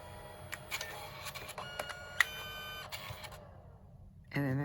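A Canon Selphy CP1300 photo printer runs quietly, with faint mechanical whirring and small clicks, then a louder motor buzz at the very end.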